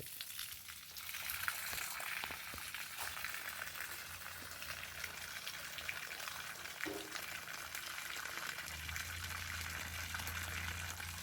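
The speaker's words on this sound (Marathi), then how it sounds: "भिजव त्या सुपारीला भरपूर पाणी घाल" Water from a hose soaking young areca palm plants on farmland, a steady hissing, splattering spray that runs on continuously, with a low hum joining near the end.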